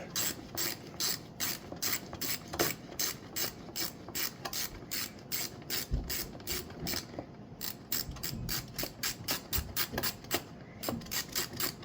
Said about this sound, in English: I had to use the ratchet.